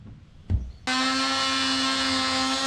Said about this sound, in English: I'm going to drill the hole out and then finish the round with a razor blade.